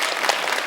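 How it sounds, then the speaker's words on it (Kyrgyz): A short, close burst of studio audience clapping on a Kyrgyz TV talk show, dense and lively hands with a faint voice underneath. "Бир кол чаап койсоңуздар."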